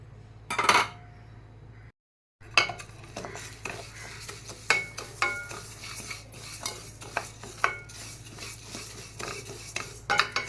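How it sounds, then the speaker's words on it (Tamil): Rice dry-roasts in a pan with repeated scraping and clinking of a spatula stirring the grains, a soft underlying rustle and light sizzle, close by and moderately loud with a short silent gap early on. "இப்போ இந்த அரிசியை வானலில் போட்டுட்டு வறுத்துடுறேன்."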